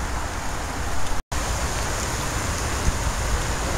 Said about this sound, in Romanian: Plouă serios, nu-i de glumit.